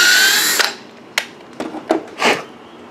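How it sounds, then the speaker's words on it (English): Power drill boring a hole into the center of a golf ball, a bright whirring spin-up that cuts off, followed by several short bursts of drilling and a few clicks, close and loud. "First thing you need to do is drill a hole into the center to receive the bolt"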